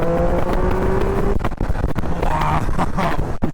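A Triumph Speed Triple 1200 RS motorcycle engine roars loudly and continuously at speed, with a brief dip as it downshifts before surging again under hard acceleration, wind rushing around it.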